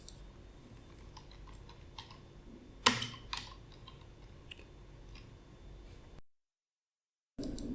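Typing on a computer keyboard while setting text for a 3D tunnel typography animation in After Effects, with scattered soft key clicks and one sharper tap, quiet and close, then a short stretch of silence before the clicks resume.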